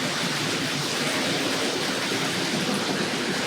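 Hornby Class 47 "Mammoth" 00 gauge model train hauling freight wagons, a dense continuous whirring hiss of motor and wheels on track, steady and close with no pauses.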